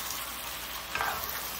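Spices, star anise and Kashmiri chili paste frying on high flame hiss in a dense, continuous sizzle, close and steady for under two seconds with a slight stirring flare midway.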